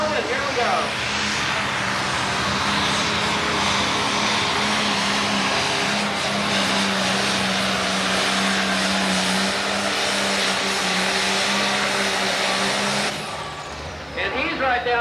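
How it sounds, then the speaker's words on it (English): A 10,000 lb Pro Stock pulling tractor's engine roars loudly and steadily at high revs for a long stretch at a tractor pull, then cuts off near the end, with a voice talking over it. "He revs up the RPMs on it, throws the black smoke to it"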